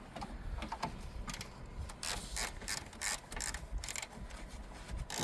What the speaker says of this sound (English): disconnect your battery with a 10 mil.